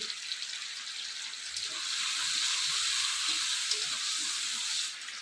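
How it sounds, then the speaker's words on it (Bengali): Cut potatoes frying in mustard oil in a wok, giving a steady crackling sizzle that grows slightly louder partway through, heard up close with no talking. "কড়াই সর্ষের তেল দিয়ে দিল আর কেটে রাখা আলু আলুটা ভেজে নিচ্ছে"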